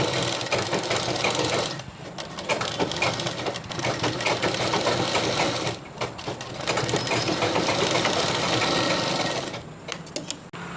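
An electric sewing machine stitches ribbon onto the inside of a skirt for a goddess idol, a loud continuous whirring buzz broken by several short pauses between runs.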